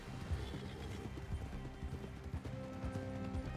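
Horse hooves clip-clopping in Red Dead Redemption 2, a steady run of thuds with a brief whinny, set against a busy in-game background.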